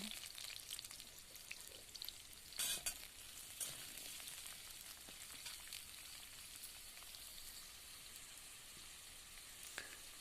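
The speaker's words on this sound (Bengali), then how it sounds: "কড়াতে কিন্তু খুব সামান্য তেল দিয়ে দিয়েছি, আলুগুলো সামান্য ভেজে নেব।" Potatoes fry in a little oil in a wok with a soft, crackly sizzle at low level, broken by a few brief stirring clatters early on and near the end.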